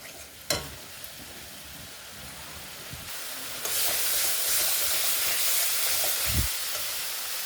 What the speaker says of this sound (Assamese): এতিয়া নৰসিংহৰ পাতখিনি মই মছলাখিনিৰ সৈতে 2 পৰা 3 মিনিট টাইম ফ্ৰাই কৰি ল'ম